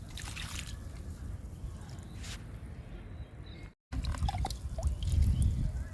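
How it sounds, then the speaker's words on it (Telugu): Liquid fertilizer mixture poured onto the soil of potted chilli plants, a soft continuous trickle and splash with a brief break, then a fuller, heavier pour close by. "రెండు మిరప మొక్కలకి ఇస్తున్నాను లిక్విడ్ని."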